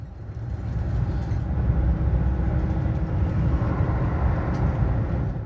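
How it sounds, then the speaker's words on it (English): Amtrak's new Acela high-speed train on the Boston to DC run at speed near 100 mph: a steady, loud low rumble of running gear and cabin noise heard from inside, continuous with no talk. "Within minutes, the train easily hits 100 miles per hour"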